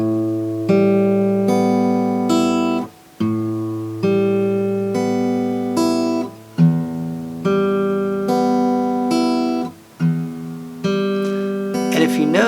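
Fingerstyle guitar plays a Pima plucking exercise, the thumb on the bass strings and fingers on the upper strings, repeating arpeggiated patterns in steady phrases with short pauses, close and clear with no talking.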